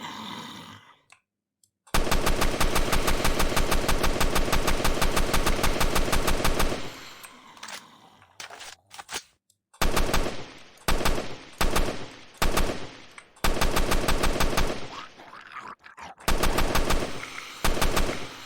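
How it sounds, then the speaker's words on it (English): Automatic gunfire rings out in a Unity first-person shooter game as zombies are shot, long loud rattling bursts broken by brief pauses and shorter volleys. "let's pick up a weapon, let's pick up some ammo, and let's go kill these zombies"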